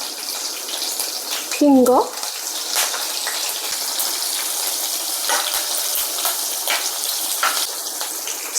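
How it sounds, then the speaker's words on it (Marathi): Green chillies frying in hot oil, giving a steady broad sizzle throughout that sounds close and fairly loud, with a brief spoken word near the start. "मिरची छान आपल्याला तळून घ्यायची आहे"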